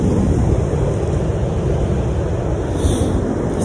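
Surf rolls onto a cold New England beach in a steady, dense rush, mixed with gusty wind noise against the microphone and no clear breaks.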